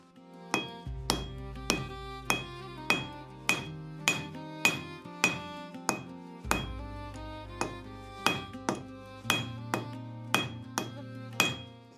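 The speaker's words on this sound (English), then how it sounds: "So now let's start forging the spike." Ball peen hammer striking hot steel while forging a spike for a spiked tomahawk, a steady series of about twenty sharp ringing blows in even rhythm, loud and close, with no talk.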